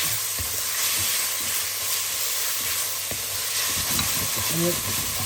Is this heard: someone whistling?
no